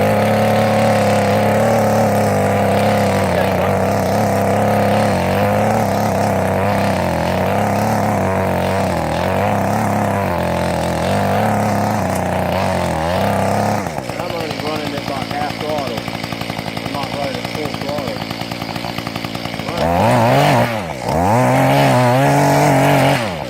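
Echo TC 210 mini rototiller's small two-stroke engine running loud and close while tilling garden ground, a steady buzzing drone that shifts in pitch midway and surges near the end.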